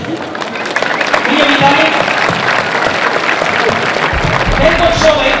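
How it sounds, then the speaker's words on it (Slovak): Audience applause for the herald at a living chess event in Banská Štiavnica, a steady outdoor crowd clapping throughout with a voice speaking briefly over it. "pre ktorého poprosím veľký potlesk"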